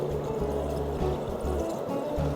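A cordless robotic pool cleaner scrubs the pool's water line, producing a steady churning, sloshing water sound with a low rhythmic pulsing hum repeating about every half second.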